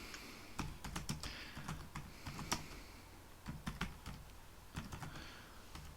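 Rapid typing on a computer keyboard: uneven bursts of sharp, close key clicks with short pauses between runs, and no voices.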